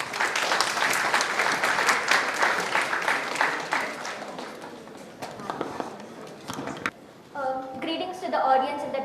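An audience at a legal awareness workshop paper presentation applauds, dense clapping that thins out after a few seconds, followed by a voice beginning to speak.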